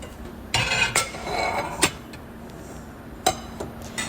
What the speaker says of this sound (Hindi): जो रात के बर्तन होंगे सबसे पहले वो वहाँ से उठा लूँगी